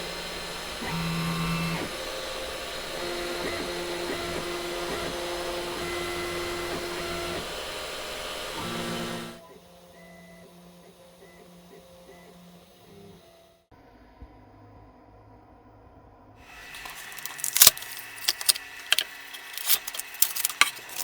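A FoxAlien 4040-XE CNC laser engraver runs a cut, with a steady mechanical hum and whirring motor tones, then quieter stretches and some sharp clicking near the end.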